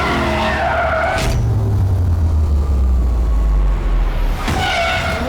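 A heavy 2.4-ton Porsche-like performance car with torque vectoring and electromechanical roll stabilization accelerates hard around a track, engine roaring loud and close with a long rising low drone and tire skidding at the start and end.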